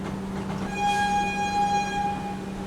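Passenger train pulling out of Gonda Junction, a steady low rumble with a sustained horn blast from nearby lasting over a second.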